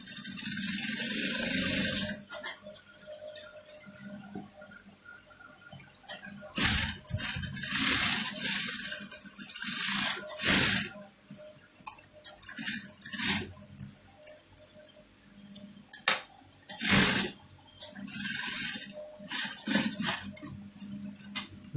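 Sewing machine stitching at the tip of a double cuff on a shirt sleeve, with several short bursts of rapid mechanical whirring separated by pauses and handling clatter, close and fairly quiet.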